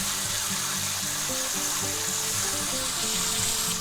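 Ribeye steak sizzling steadily in a hot pan while being basted with butter, a continuous close frying hiss with no pauses and no talking.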